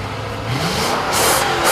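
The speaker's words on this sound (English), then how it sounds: "Under the hood, you got a ruddy big Japanese V8." A Lexus GX 460 with a 4.6-liter Japanese V8 accelerates hard on the road, its loud engine note climbing steadily in pitch through the gear with no talking.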